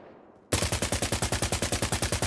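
Rapid automatic AK rifle fire with a GP25 grenade launcher fitted, in the Arma Reforger shooter game: a loud, evenly spaced burst of about seventeen close shots that starts abruptly after a quiet moment and runs without a break.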